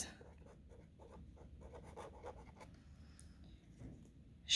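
Pen or pencil writing notes on paper, a soft continuous scratching with short strokes, faint and close, with no talking.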